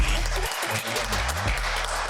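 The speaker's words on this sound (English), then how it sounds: "Let me get a hand clap" A small group in a podcast studio gives a brief round of hand clapping, soft and fairly distant, lasting about two seconds without speech.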